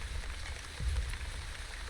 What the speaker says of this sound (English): I'm very happy that it is raining so much right now